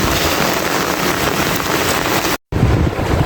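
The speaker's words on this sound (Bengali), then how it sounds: "দেখেন কিভাবে বৃষ্টির পানি যাইতেছে।" Rainwater rushes along during a heavy downpour, a dense loud roar of rain and flowing water heard up close, broken by a brief dropout before resuming.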